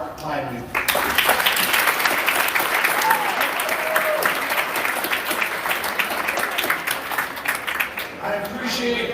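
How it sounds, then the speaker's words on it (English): Sustained applause from a school assembly audience welcoming a guest speaker, a dense steady roar of many hands that starts abruptly, holds loud for several seconds and thins slightly near the end. "I appreciate that round of applause"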